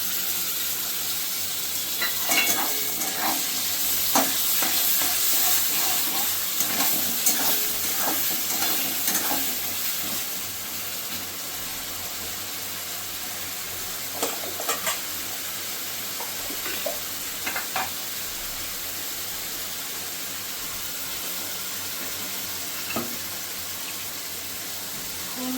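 Onion paste sizzles in a pan with potatoes while being stirred, a steady frying hiss broken by repeated scraping and clicking strokes of the spoon, close and continuous throughout.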